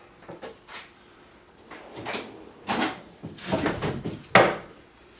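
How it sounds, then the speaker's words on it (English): Several wooden scrapes and slides in irregular bursts, like a long drawer being pulled out and rattling, fairly close with quiet gaps between. "Open that long drawer."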